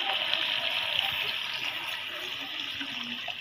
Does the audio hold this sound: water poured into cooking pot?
yes